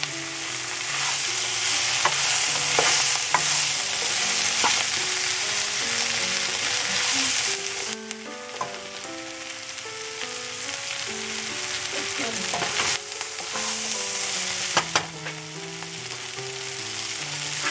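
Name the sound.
stirring okra and onion masala frying in a pan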